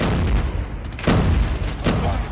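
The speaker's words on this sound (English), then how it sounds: "I stuck you with a grenade, my bad" A grenade goes off in Call of Duty Mobile during a tournament match on a hill map, one heavy boom followed by another blast about a second later, over steady in-game battle noise.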